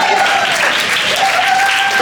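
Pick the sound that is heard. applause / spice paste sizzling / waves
applause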